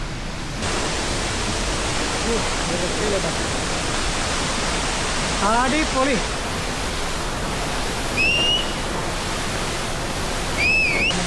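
Njandirukki Waterfalls near Thodupuzha roar with a constant, dense rush of falling water, heard from the top of the falls by a gallery viewpoint. A few voices speak briefly over the steady roar.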